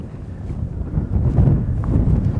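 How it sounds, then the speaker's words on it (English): Wind buffets the microphone outdoors on a ranch while a rider works a two-year-old horse, a loud low rumbling roar that swells and gusts unevenly with no talking. "Oh, wind's kind of windy that way."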